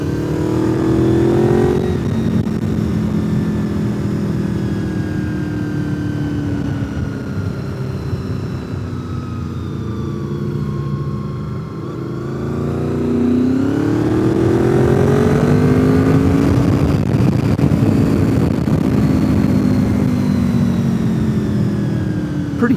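Motorcycles ride the winding US129 Tail of the Dragon at Deals Gap, engines droning loud and close with rising and falling revs and wind rush throughout.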